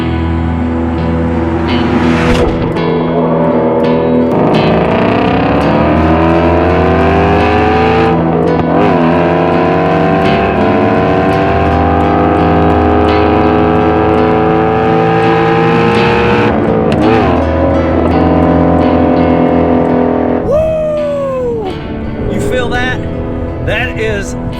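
Ford Mustang GT350 with a flat-plane-crank V8 revs hard and loud, its harmonic engine note climbing and falling through repeated pulls over about 24 seconds, heard from inside the car, with a sharp rise and drop near the end.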